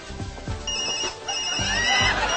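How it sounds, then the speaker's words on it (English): A phone rings in an office, its loud electronic ringtone repeating in a warbling, whinny-like pattern that fills the short moment with no one talking over it. "ever since breakfast my phone's been ringing off the hook"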